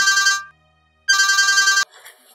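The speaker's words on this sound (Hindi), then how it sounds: "इरफान का फोन है" A phone ringtone in a drama film scene plays in two short bursts of bright, rapid electronic ringing separated by a pause, heard alone with no talk.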